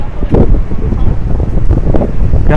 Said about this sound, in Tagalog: Grabe guys, sobrang hangin.